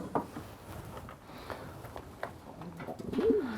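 Soft pigeon cooing in a quiet loft, with a few low murmuring calls and a slightly louder coo near the end.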